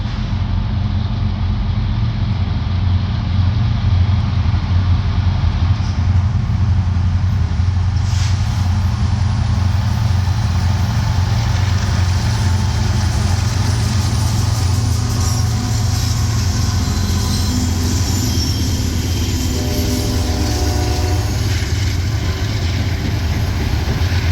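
A freight train led by three locomotives rolls past at night, its heavy low engine rumble steady and loud throughout, with a faint horn-like tone rising near the end.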